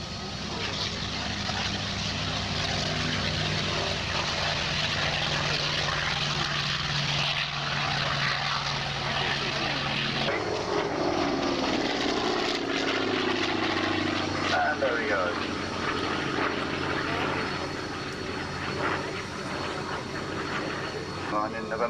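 A Sea Fury fighter roars through a high-speed pass at an airshow, its piston engine drone holding steady before the pitch drops sharply as it sweeps past, while a commentator talks over the noise.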